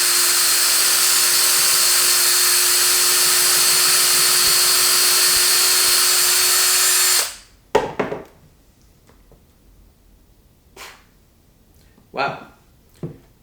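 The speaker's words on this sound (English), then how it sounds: "we're going to put in our bolts for our bolt-on neck." A power driver runs steadily, driving bolts into a Telecaster bolt-on guitar neck, with a constant whine that stops abruptly partway through, followed by a few sharp knocks and handling clatters.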